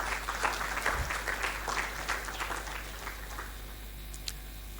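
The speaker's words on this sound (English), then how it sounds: "I would like us to give a warm round of applause to the Gothi Institute." An audience at a celebratory event about Igbó-Olókun glass beads gives a warm round of applause, a dense, steady wash of many hands clapping that fades slightly toward the end.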